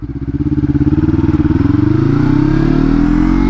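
A beginner-friendly track motorcycle's engine, loud and close, with a rapid pulsing exhaust and pitch that climbs steadily as the rider shifts through gears, running alone without talk.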